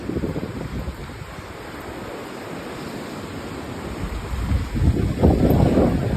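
Strong wind buffets the microphone in a steady broadband roar, gusting louder toward the end.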